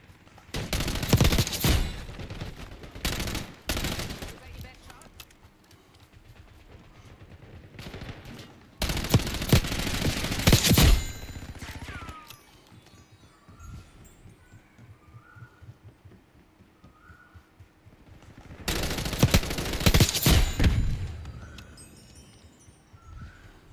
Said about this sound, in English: Enemy sniper shooting.